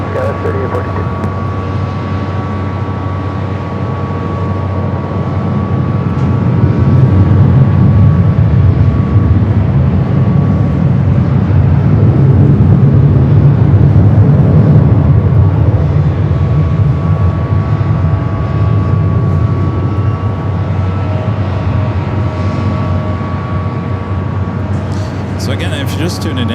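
A Spirit A320 jet airliner taking off from runway 24 left at LAX: a loud, steady engine roar that swells after a few seconds and holds, heard from a distance with a faint tonal hum underneath.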